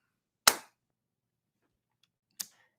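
Fireworks burst in two sharp, separate cracks about two seconds apart, each with a brief fading tail against near silence.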